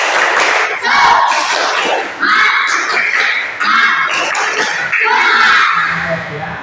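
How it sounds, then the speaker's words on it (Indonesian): A classroom of children doing a rhythmic 'tepuk semangat' spirit clap led by a teacher, bursts of patterned clapping close by, mixed with children's voices across the whole stretch. "kita tepuk semangat lagi terlebih dahulu ya"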